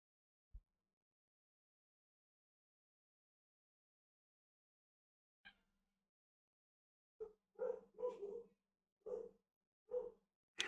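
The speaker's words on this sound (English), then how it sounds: "Apologies if you can hear my dog in the background." A dog yips and whimpers in the background of a quiet indoor room. After a single early yelp and one later yip, a cluster of short, moderately loud whines and barks follows at irregular intervals.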